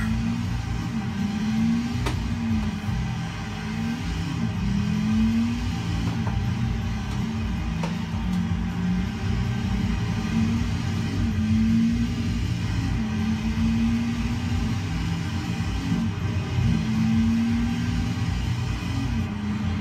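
A racing car lapping in Sega GT Online, an original Xbox game played on an Xbox 360 with a Logitech G29 wheel: a steady engine drone holds throughout, rising and falling in pitch through gear changes, with no talk.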